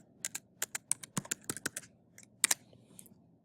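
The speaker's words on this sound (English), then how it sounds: "I'll type in good morning class" Crisp, close computer keyboard typing, a quick irregular run of about a dozen key taps with a short pause before a final few strikes, with no voices.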